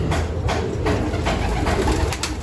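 Racing pigeons in a loft make soft, repeated cooing calls over a steady background of wing and shuffling noise, close by and continuous.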